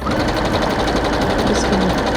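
A sewing machine running steadily while stitching appliqué on a cushion, a continuous close whirring hum with rapid needle pulses throughout.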